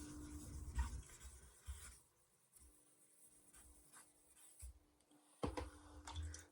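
Scraping strokes of a high carbon stainless steel Mercer knife on a Naniwa super stone whetstone during burr flipping, a few short rasping passes with pauses between, faint and close.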